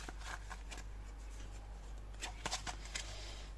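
A deck of oracle cards being shuffled by hand in a quiet room, a soft continuous riffling and sliding with a few sharper snaps of cards near the end.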